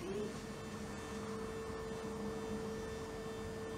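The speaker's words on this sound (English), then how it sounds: "this will extend the machine down to its maximum and then come down a little bit" An automatic consolidation test machine drives steadily toward its limit, a faint continuous motor hum and whine holding a steady pitch with a soft mechanical drone and no voices.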